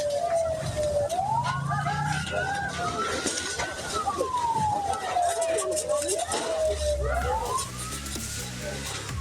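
A wailing fire truck siren rises and falls in long sweeps, fairly loud and close, over traffic rumble and background noise.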